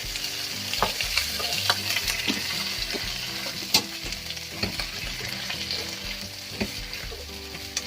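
Kale stir-frying in a pan with sugar and a splash of water for an oyster-sauce dish: a steady close sizzle runs throughout, broken by irregular scraping and clattering strokes of the spatula, with no voices.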